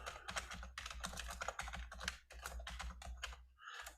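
Steady runs of quick keyboard typing with short gaps between bursts, close by and without any talking.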